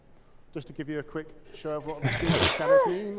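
Someone sneezes once, a short, sharp burst in the middle of a man's presentation at a Star Citizen fan convention. The speaker keeps talking before and after it.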